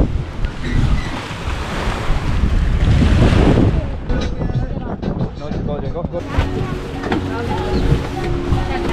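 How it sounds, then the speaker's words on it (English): Strong gusting wind buffets the microphone beside crashing surf at Lake Coatepeque near a boat, with voices talking underneath the rushing noise. "It's kind of windy"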